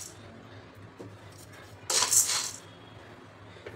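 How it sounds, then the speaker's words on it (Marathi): Sabudana grains are poured into a heating kadhai in a home kitchen, one brief rattling, clinking rush of grains that stops within about half a second against quiet room tone. "त्यामध्ये आपल्याला घालायचा साबुदाणा।"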